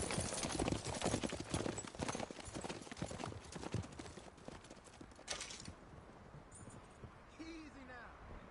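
Horses gallop in a video game with fast, close clip-clop hoofbeats over the first few seconds, then fade into quieter ambience as a voice briefly speaks.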